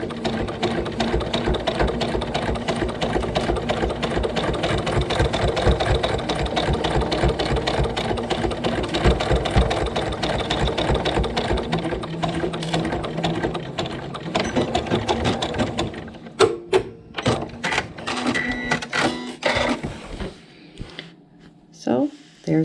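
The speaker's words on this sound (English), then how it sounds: "then just stitch right along our basting line" A sewing machine stitches a seam along a basting line on a pillow cover, a rapid steady mechanical whir for most of the span that turns into stop-start bursts and clicks near the end.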